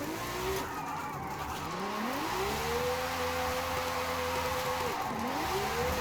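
A Mercedes CLK GTR, a mid-engine rear-wheel-drive car, drifts in Forza Horizon 5, its engine note sweeping up and down steadily and loudly with tire-squeal hiss throughout and no talk.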